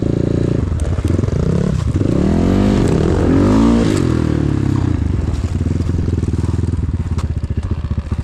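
A KEWS K16 PRO motorcycle engine runs on ice, loud and close, revving and rising in pitch with a steady rumble and some clattering underneath.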